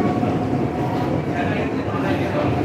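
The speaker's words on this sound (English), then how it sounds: "it's an automated shuttle train, just like the Docklands Light Railway" Automated DART shuttle train, a modern bullet-shaped driverless vehicle, running with a steady low rumble and broadband rolling noise throughout, heard from inside the carriage at a constant level.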